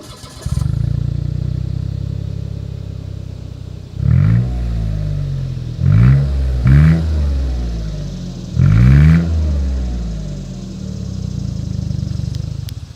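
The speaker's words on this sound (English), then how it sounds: "As always, here is that exhaust clip." A 2021 Mitsubishi Mirage exhaust idles steadily, then is blipped through four quick revs that rise and fall before settling back to a smooth idle, close and loud with no talking.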